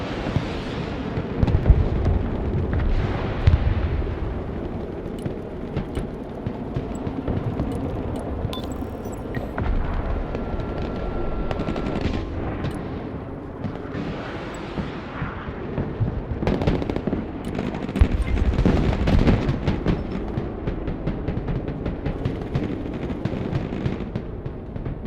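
A T80 tank's grenade launcher firing in Broken Arrow, a dense, continuous stream of thumping blasts and explosions over a rumbling battlefield, loud throughout with heavier bursts rising and falling over about 25 seconds.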